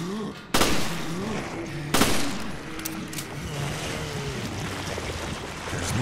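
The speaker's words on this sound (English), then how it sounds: "Wow, one shot with that rifle." Two loud, sharp rifle shots in Resident Evil: Revelations ring out about a second and a half apart, cutting through a low droning background hum.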